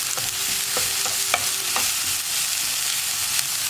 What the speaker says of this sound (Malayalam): ഇനി നമുക്കിത് നന്നായിട്ടൊന്ന് ഇളക്കി മിക്സ് ചെയ്യാം.